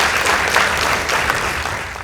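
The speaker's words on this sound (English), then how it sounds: "Let's give them a round of applause." Loud, dense applause from an audience at a national high school debate, a continuous close wall of clapping with no pauses.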